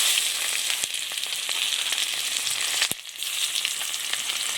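Dried red chillies, cumin seeds and three small bay leaves hit hot oil for tempering, giving a steady, close sizzling hiss with a few sharp pops and crackles, no voices.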